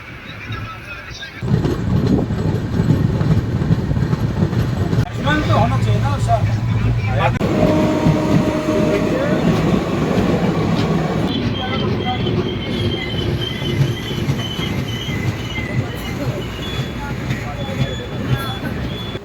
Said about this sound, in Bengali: যে সময় দাঁড়িয়ে ছেড়ে দিচ্ছে আমাদের ট্রেন দার্জিলিং মেল